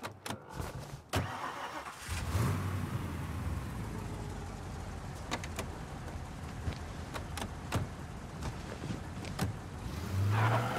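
A car engine in Mafia Definitive Edition fires up and then drives on with a steady mid-pitched hum, a few sharp clicks and knocks over the run and the engine swelling again near the end.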